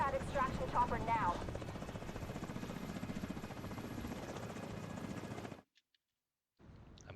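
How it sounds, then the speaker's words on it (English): In The Division 2, an extraction helicopter's rotors beat with a dense, pulsing chop during a Coney Island Ballpark time trial, with a voice talking over it early on. The helicopter sound cuts out abruptly near the end, then briefly returns fainter. "Chernenko on that extraction chopper now"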